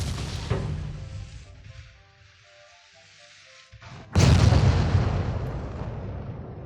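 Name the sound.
naval gunfire in the video game Ultimate Admiral Dreadnoughts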